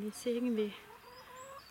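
A hen, one of a small backyard flock of six, clucks in short harmonic bursts close by, her leg lame; someone speaks briefly over the calls.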